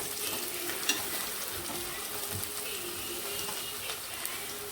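Onions and green chillies fry lightly in oil inside a pressure cooker, a soft continuous sizzle with faint scraping of stirring and an occasional small tap.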